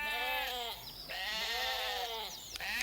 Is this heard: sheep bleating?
yes